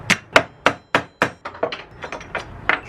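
Metal punch struck with a hammer to tap a part into the pedal assembly of a 1973 VW Baja Beetle: about a dozen sharp, close taps in a steady rhythm, softening slightly toward the end.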